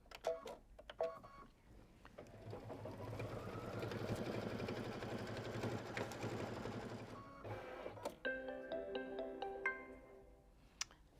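An embroidery machine stitches a quilt block in the hoop with a fast, even mechanical whirr that builds and runs steadily, then slows into a few tonal beeps and clicks near the end.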